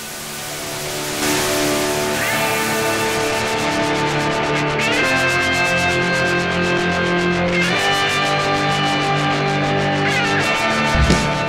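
Audio processed through the Szechuan Saturator plugin gives a gritty, splashy saturated tone, a dense continuous distorted wash with shifting pitched layers and sweeping changes throughout.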